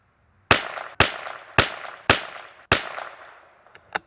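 A CZ 457 MTR rimfire rifle fires five sharp shots at roughly half-second to one-second intervals, each crack followed by a brief decaying echo at an outdoor range, with faint clicks afterward.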